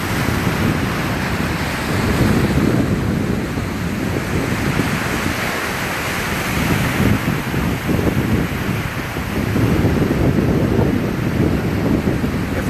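Ocean waves and wind out on open sea, a loud continuous wash of surf with swelling surges and steady wind roar against the microphone, no speech.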